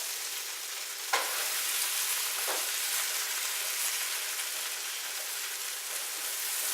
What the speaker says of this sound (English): Oh, you hear that sear?